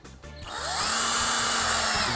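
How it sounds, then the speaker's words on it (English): A power drill spins up and runs steadily at high speed, loud and close, after a brief lead-in of background sound. "And just keep drilling on that baby."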